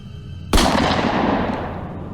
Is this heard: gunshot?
yes